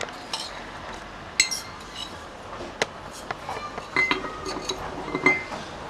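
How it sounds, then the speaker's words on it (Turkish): Pounded chickpea mixture spooned into a glass jar, giving sparse, light clinks of a utensil against glass with soft scraping between them, close and fairly quiet. "Şimdi bunu kavanozuma koyacağım."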